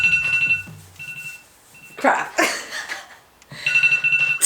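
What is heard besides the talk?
timer alarm going off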